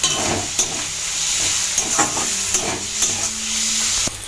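Fenugreek greens and eggplant frying in a pan, a continuous close sizzle with a bright hiss, broken every half second or so by scraping stirs and light clinks.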